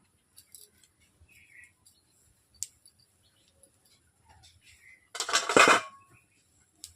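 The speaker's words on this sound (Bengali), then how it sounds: "বন্ধুরা আমি স্ট্যান্ড দিয়ে দিচ্ছি" A metal steamer stand is set into a pot for steaming momos, with a few faint ticks and light clinks, then a brief loud metallic clatter as it drops into place, close in a quiet kitchen.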